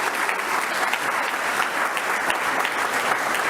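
Steady applause from a crowd at a school committee meeting, sustained clapping at an even level with no talking.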